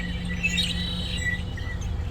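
Crickets chirping at night in open countryside, a faint, steady high-pitched trill with scattered bird chirps over a low background hum.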